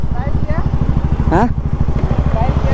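Two motorcycles, a KTM RC200 and a Royal Enfield Classic 350, idle nearby with a steady, throbbing low engine pulse throughout, while someone speaks briefly over the running engines.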